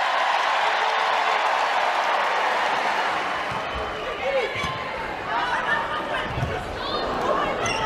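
A crowd cheers and applauds steadily at a college volleyball match between Nebraska and the Utes, a dense continuous roar of clapping and voices with scattered shouts rising near the end.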